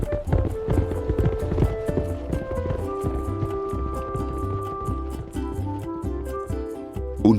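Racehorses gallop in a horse race, their hooves a rapid, regular drumming of sharp clops that stays loud and steady, with a sustained tonal layer underneath.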